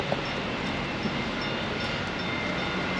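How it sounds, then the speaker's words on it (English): A TEXRail commuter train rides from the Stockyards toward Grapevine, Texas, heard from inside as a continuous, even rumble and rush of wheels and motion, with no distinct horn or voices. "this is the fast train back to Grapevine from Stockyards"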